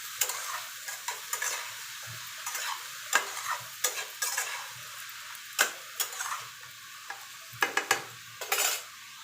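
Greens stir-fried with turmeric and salt in a pan: sizzling frying with repeated sharp scraping strokes of a spatula against the metal, close and fairly loud, no talking.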